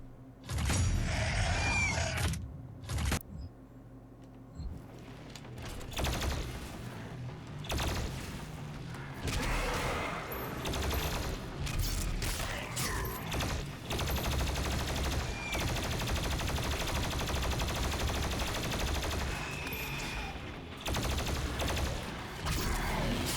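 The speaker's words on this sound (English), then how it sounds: "plasma rifle." Rapid weapon fire from the plasma rifle in Doom Eternal, loud sustained bursts of energy shots mixed with explosions and impacts, with brief pauses near the start and end.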